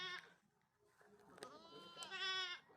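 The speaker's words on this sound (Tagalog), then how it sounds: "yung inahin na kambing" A mother goat on a small goat-raising farm bleats in repeated harmonic calls, close and fairly loud, with a short break before a longer, stronger bleat near the end; quiet farm background underneath.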